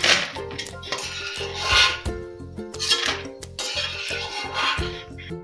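Metal spoon scraping and clinking against a pan while lifting fried chironji out of hot oil for jaggery laddu, a steady run of close scrapes and taps with a low bubbling hum beneath.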